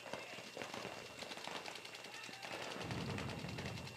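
Paintball guns fire in rapid bursts during a paintball match, a dense crackle of overlapping shots from several players mixed with outdoor noise and movement, steady and loud throughout.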